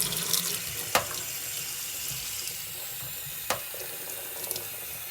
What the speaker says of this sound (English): So here I go with the water.